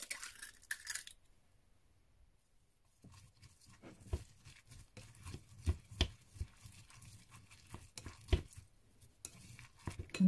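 Two eggs being stirred into a chopped banana blossom mixture in a bowl, heard as a run of irregular soft taps and scrapes of a utensil against the bowl after a short quiet pause.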